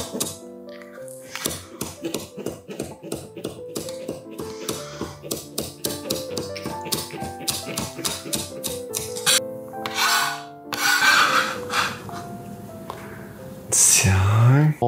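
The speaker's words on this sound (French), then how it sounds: "Maintenant, on va hacher notre ciboulette très finement." A knife finely chops chives on a cutting board in rapid, even taps that run steadily for several seconds, close and crisp, followed by louder rustling and clattering noises toward the end.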